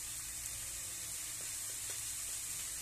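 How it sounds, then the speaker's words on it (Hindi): Onion and garlic fry in hot oil while arbi is being cooked, giving a steady, close, bright sizzle that stays constant throughout, with a few faint stirring knocks and no talking. "प्याज को 2 मिनट इसे भून लेंगे।"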